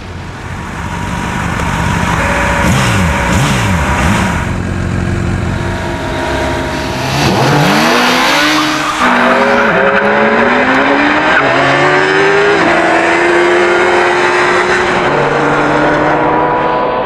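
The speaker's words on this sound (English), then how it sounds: "After 3/4 of a mile, both the bike and the car were travelling at 180 miles an hour." Motorbike and 380-horsepower sports car racing flat out side by side, engines roaring loud and rising in pitch with gear changes and a passing sweep, continuous throughout with no talk.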